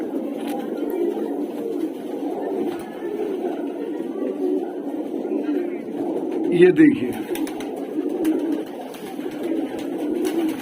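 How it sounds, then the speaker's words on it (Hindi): Pigeons at a pigeon seller's stall, including Madrasi birds, give a continuous low, throaty cooing chorus close by, with someone talking over it. "कबूतर सारे लाजवाब है।"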